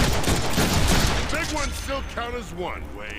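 Rapid bursts of gunfire from a Deadpool video game, dense and loud at first, then thinning out under a talking voice and game tones.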